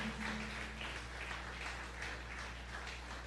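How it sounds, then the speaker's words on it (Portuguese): A church congregation claps together during a worship service, a dense, steady wash of applause at a distance with a faint low hum underneath. "Com alegria aplaudo o Senhor"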